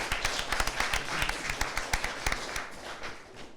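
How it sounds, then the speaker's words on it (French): Audience applause in a French television quiz studio, a dense crackle of many hands clapping with sharp individual claps standing out, loud and steady for the whole stretch before easing slightly at the end. "Merci d'applaudir ce public-là."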